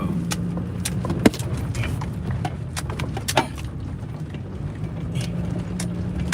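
A car is driven along with a constant low road and engine drone, punctuated by frequent small clicks and rattles from inside the cabin.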